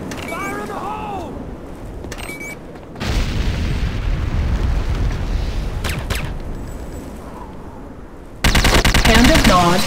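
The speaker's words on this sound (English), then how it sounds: "C4 is set. Fire in the hole!" A C4 charge detonates in the game Renegade, a heavy booming blast that swells into a sustained rumble, followed near the end by a loud burst of gunfire and explosions, with brief game sound effects early on.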